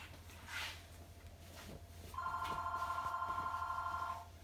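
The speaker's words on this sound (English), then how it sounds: "And there's the phone." Telephone in a room rings with a steady electronic trill lasting about two seconds, faint and moderately close, after a stretch of quiet background hum.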